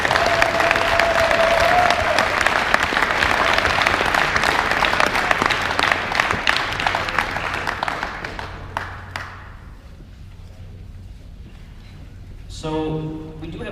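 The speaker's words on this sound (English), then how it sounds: "So can we get one more big round of applause for the winning team?" Loud, dense applause from a banquet audience celebrating the winning team at a Winter Baja 2016 awards event, steady for about eight seconds before tapering off, with a brief voice over the amplified system near the end.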